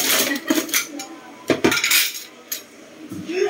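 Dishes and cutlery are washed by hand in a home kitchen, with close, loud clattering of metal utensils and plates in irregular bursts of clinks and knocks.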